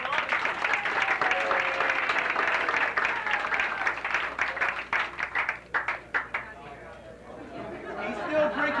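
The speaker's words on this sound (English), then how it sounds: "Let's have a nice round of applause for second in command, Augustini." Audience applause and cheering aboard the Carnival cruise ship TSS Festivale in 1983, a dense crowd sound with chatter that thins out into scattered claps before fading.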